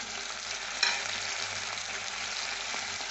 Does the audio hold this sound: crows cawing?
no